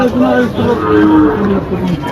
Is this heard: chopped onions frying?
no